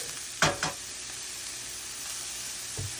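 Onions and potatoes sizzle steadily in a skillet for corned beef hash, a close, even hiss broken by a couple of brief stirring scrapes near the start and one near the end.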